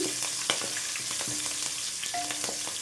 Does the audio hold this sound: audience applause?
no